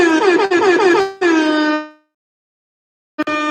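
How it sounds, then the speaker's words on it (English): Loud blaring air horn blasts, two long honks back to back, then silence before a short third blast starts. "I'm gonna have to find a new air horn."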